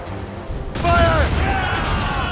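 Ship cannons fire in Assassin's Creed Rogue, a loud blast of gunfire and booms that keeps rolling for about two seconds, with shouting voices over the battle.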